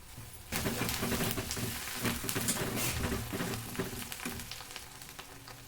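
A chicken curry base fries in a pan after curry leaves are added, giving a steady, dense sizzle that starts abruptly and carries on close up, with light stirring.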